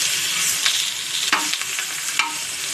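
Chillies frying in a pan on a high gas flame, producing a bright, close hiss of sizzling oil with a few brief scraping stirs, loud and steady with no voices.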